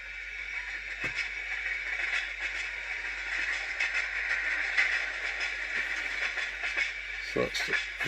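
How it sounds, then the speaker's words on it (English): A model train runs along the rails with a steady broadband rumble and hiss, punctuated by occasional clicks and clunks. "So that's the train just passing it."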